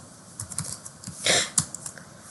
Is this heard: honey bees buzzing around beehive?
no